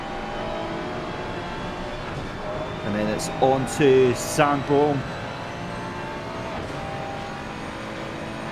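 A race car engine at Paul Ricard in a racing video game revs and accelerates in a few sharp bursts with rising pitch, under continuous talk from a commentator.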